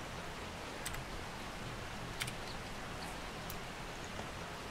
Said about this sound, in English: It's pouring down rain, dude.